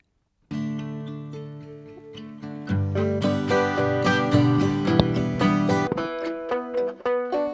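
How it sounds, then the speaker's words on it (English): A banjo plays a bright, rolling melody alone, with layered picked notes growing fuller partway through and steady rhythmic attacks. "And he also put a banjo on there."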